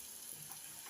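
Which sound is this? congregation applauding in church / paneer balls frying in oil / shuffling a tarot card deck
paneer balls frying in oil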